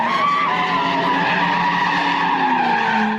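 A car spins donuts at a street sideshow in the Oakland area, its tires skidding and squealing continuously and loudly over the engine roar for the whole stretch, with no talk.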